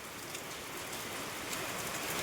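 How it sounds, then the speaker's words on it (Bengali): Heavy rain pours down in a loud, dense, continuous roar of drops striking surfaces, with no talk. "দেখো কেমন জোর বৃষ্টি শুরু হলো"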